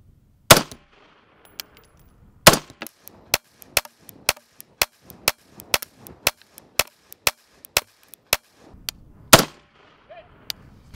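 Sharp, loud gunshots strike body armor plates of plastic, ceramic and steel, fired singly in an irregular series of about twenty cracks, with a few heavier impacts standing out.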